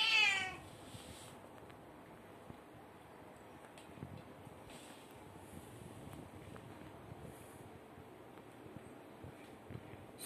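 A domestic cat meows at the very start, a short rising call, then only a faint windy hum remains with no speech.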